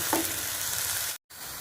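Raw potatoes frying with turmeric, salt and green chillies, stirred in a pan with a steady close sizzle and scraping, cut by a brief dead gap before resuming.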